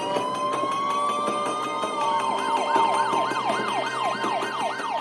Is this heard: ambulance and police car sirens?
yes